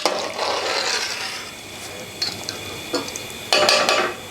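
A lid set over a cooking pot of yakhni, with soft rubbing and a couple of short metallic knocks, then a louder clattering scrape as the cover settles, close and without talk.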